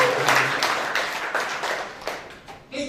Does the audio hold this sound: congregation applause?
yes